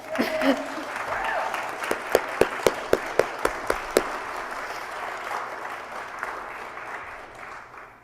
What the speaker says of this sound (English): I know clapping in worship is always ambiguous. Let's do it.